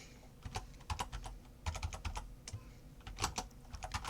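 Python code being typed on a computer keyboard: close, rapid bursts of crisp keystroke clicks with short pauses between runs.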